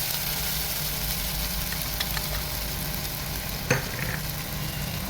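Ginger garlic paste frying in hot oil sizzles and crackles steadily, with a brief stirring clatter partway through and no voices.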